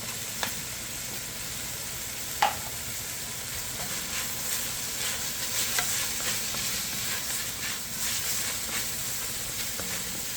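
Onions and garlic fry in oil in a pot for chicken tortilla soup, giving a steady soft sizzle with a few sharp clicks of stirring, close and unbroken, no talking.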